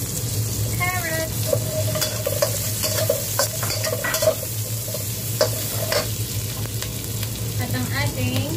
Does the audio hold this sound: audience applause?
no